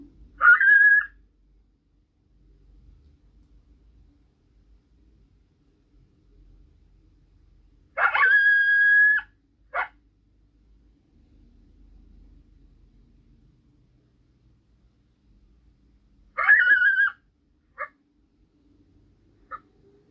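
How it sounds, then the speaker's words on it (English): Three separate bursts of wavering, high-pitched coyote howls and yips from an electronic caller, each a second or two long, with quiet stretches between them. "So this is the coyote howls."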